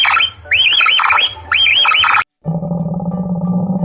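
Capybara squeaks arrive in quick, repeated rising chirps, loud and close, then break off into a short silence before a low, steady buzzing drone takes over.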